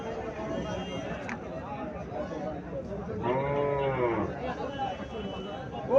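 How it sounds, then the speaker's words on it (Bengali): A Sahiwal breed cow lets out a single drawn-out moo at moderate distance, rising over steady farm background noise, with a calf of the same breed nearby in a livestock market. "এখানে আবার শাহিওয়াল জাতের একটা গাভি দেখা যাচ্ছে"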